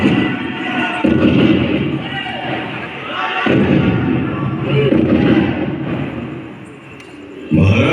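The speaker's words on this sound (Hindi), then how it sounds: "महाराज गंगाधर राव को कड़क बिजली और भवानी शंकर की तोपों से सलामी दी" Cannon salute effects boom through a light and sound show at Jhansi Fort, three deep heavy thuds spaced several seconds apart under an ongoing narrating voice.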